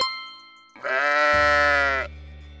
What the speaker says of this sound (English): It is the sheep.